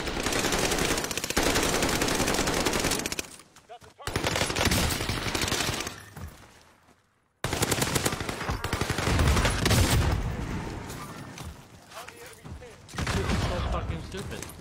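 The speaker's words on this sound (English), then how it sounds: "I shot 12 bullets in this guy." Heavy video game gunfire, long loud bursts of rapid automatic shots that come in several dense stretches broken by short pauses.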